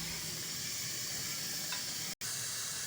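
Potato curry in a pot starting to boil, a steady, moderately loud bubbling hiss and sizzle that runs evenly throughout, with one brief cutout near the end and no voices.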